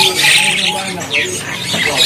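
Bright, repeated sooty-headed bulbul chirps flicker over a busy bird-shop background, with short calls recurring every half second or so at close range.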